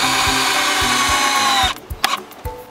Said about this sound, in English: let's keep drilling.